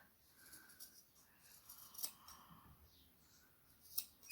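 Scissors snip yarn ends on a crocheted tassel, a few quiet, close cuts spaced irregularly with soft handling rustle between them.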